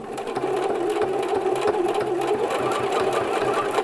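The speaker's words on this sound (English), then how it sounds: "So I'm going to do a back stitch and then" Sewing machine running steadily over T-shirt fabric, a continuous close whirring motor with rapid needle rhythm, stitching back then forward without pause.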